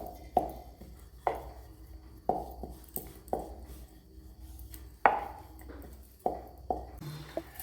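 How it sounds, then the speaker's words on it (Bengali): A knife cuts through food on a board while making cauliflower, carrot and coconut samosas, giving around nine sharp, close knocks at irregular intervals with quiet gaps between. "আমি ছুরি দিয়ে মাছ বরাবর কেটে নেব।"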